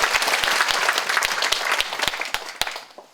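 An audience at a Catholic symposium applauds warmly, a dense burst of clapping that holds steady and then fades out over a few seconds.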